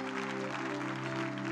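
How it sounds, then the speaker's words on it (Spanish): A church congregation claps together in a steady, dense spatter of applause during a Spanish-language service, with a low hum and a faint voice underneath. "Aplaude a Jesús."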